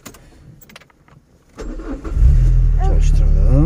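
A car engine cranks and catches on a night drive, then settles into a loud, steady idle close by, with people talking quietly before and during the start.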